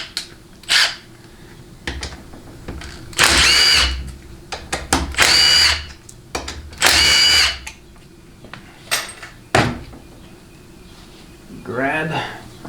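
Power drill or impact driver spinning out 8mm reverse hold-down plate bolts on a 1995 4L60E transmission being torn down, in several short whirring bursts separated by clinks of parts and tools, with a voice talking in between.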